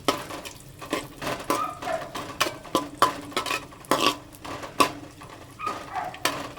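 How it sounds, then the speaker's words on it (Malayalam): Raisins roasting in a pan, with a spatula scraping and tapping against the metal in an uneven, fairly steady rhythm of close knocks and rattles. "ഉണക്കമുന്തിരി ഇതൊന്ന് കുറച്ചൊന്ന് മൂപ്പിച്ചെടുക്കാം"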